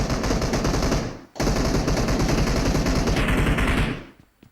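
Rapid automatic gunfire from the PUBG Mobile battle royale game rattles in two long, loud bursts separated by a brief pause, then cuts off and fades.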